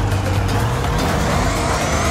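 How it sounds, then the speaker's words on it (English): A damaged monster truck roars loudly and continuously in the Monster Jam video game, engine revving and rising slightly in pitch with no pauses. "our monster truck has a lot of front end damage."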